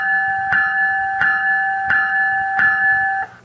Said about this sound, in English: Loksound claims that is an air bell